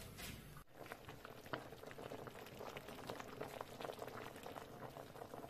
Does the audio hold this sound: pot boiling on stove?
yes